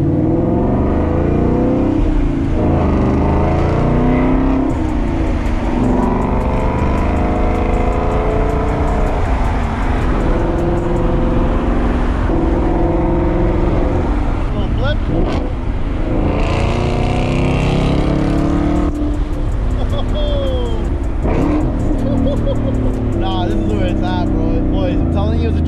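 A Ford Mustang GT 5.0 (S550) with an aftermarket exhaust revs loudly and continuously, its deep roar echoing off nearby parked cars, with a voice talking over it.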